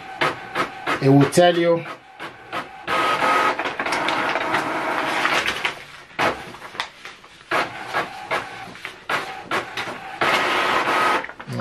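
An HP Envy 4527 printer prints a network configuration report, with bursts of rasping feed and carriage clatter, repeated short mechanical strokes up close, and someone talking between and over them.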